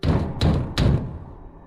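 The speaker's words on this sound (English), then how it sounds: "they banged on the door again. These were aggressive knocks" Three heavy, aggressive bangs strike a door in quick succession, each a loud close thud with a short ring-off, the last fading into quiet.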